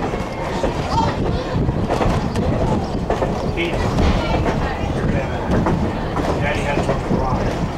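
Strasburg heritage train rolling along the tracks, a steady rumbling ride noise with faint clickety-clack and some wind buffeting, continuous and fairly close throughout.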